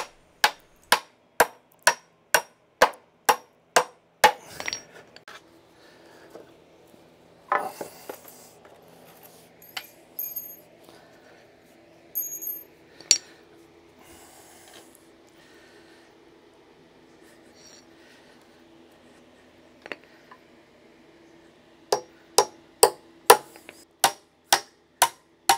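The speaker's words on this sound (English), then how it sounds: "I will be nailing them together and standing it up and putting it in place." A regular hammer drives nails into 2x4 wood studs, sharp evenly spaced blows in a fast run at the start, then scattered knocks and handling noises, and another rapid series of strikes at the end.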